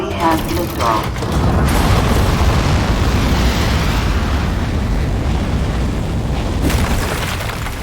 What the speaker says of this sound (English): 3, 2, 1. We have liftoff.